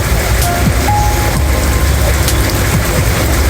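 Steady rain pours down while riding along a road in Juba, South Sudan, a dense, even hiss of drops broken by faint vehicle noise and brief passing tones, loud and continuous throughout with no talking.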